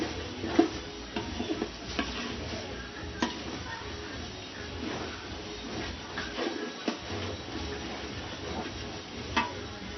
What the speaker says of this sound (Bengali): এটার মধ্যে আমরা মাংস আর টক দই দিয়ে দিলাম।